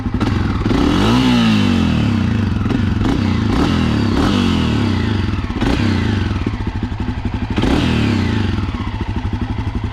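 A Honda CRF250F dirt bike engine runs loud and close on a fall trail ride, revving up and down repeatedly with throttle blips, clattering mechanical noise and occasional scrapes and thumps.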